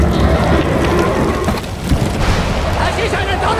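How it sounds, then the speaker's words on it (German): Heavy rain and rolling thunder fill a thunder battle in the LEGO The Hobbit video game, a dense, loud downpour with booming rumbles, while voices talk over it. "Das ist eine Donnerschlacht!"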